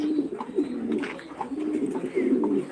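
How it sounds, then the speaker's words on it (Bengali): Pigeons at a pigeon farm in Senbag, Noakhali coo in low, repeated throaty phrases close by, with faint chirps from other birds among them. "এখানে খুব দামি দামি আইটেমের কবুতর আছে"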